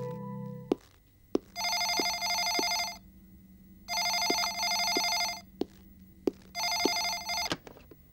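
An indoor telephone rings in three long bursts of bright trilling bell tone separated by pauses, with a few sharp clicks and knocks between, fairly quiet and with no talking.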